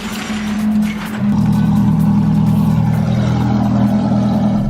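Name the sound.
Ferrari engine idling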